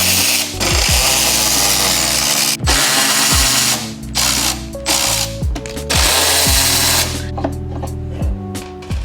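Repeated ratcheting clicks and short mechanical bursts from a T10 Torx driver removing the MAF sensors on a BMW M3 engine bay intake, close and fairly loud, with intermittent pauses between turns.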